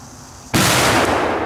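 After a quiet pause, a single sharp Polish category 4 firework bang erupts and rings on loudly, followed by a second burst shortly after.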